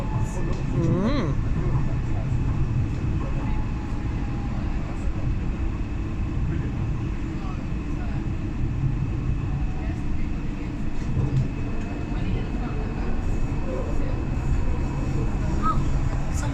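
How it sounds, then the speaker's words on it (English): Riding a busy DLR train from Stratford to Canary Wharf, with a steady low cabin rumble and rolling wheel noise throughout and people talking quietly over it. "It's a busy train journey."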